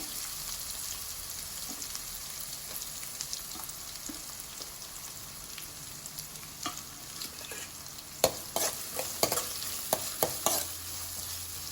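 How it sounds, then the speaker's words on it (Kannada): Chopped onions and curry leaves fry in a pan with a constant sizzle, while a spoon stirs and scrapes, adding louder clinks and scrapes toward the end. "ಹೆಚ್ಚಿಟ್ಕೊಂಡಿರುವಂತಹ ಈರುಳ್ಳಿಯನ್ನ ಹಾಕ್ಕೊಂಡು ಫ್ರೈ ಮಾಡ್ಕೊಳ್ತೇನೆ"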